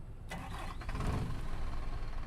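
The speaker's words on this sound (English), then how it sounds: "okay, so let's get into the bus. Let's turn her on." Bus engine starting in OMSI 2 on a V3d Digibus Mirage, a short starter crank and then the engine catching into a steady, close idling rumble.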